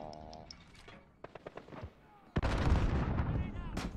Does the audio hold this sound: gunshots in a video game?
yes